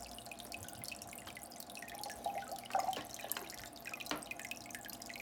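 Water pouring and dripping into an aquarium, a soft continuous trickle with scattered drips and splashes, moderately close, no talk.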